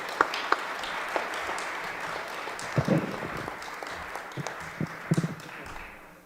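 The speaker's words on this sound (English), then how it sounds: "let's give her a big round of welcoming applause" A gathered audience gives welcoming applause for a speaker, a moderate, steady patter of clapping with a few louder close claps and brief murmurs, dying away at the end.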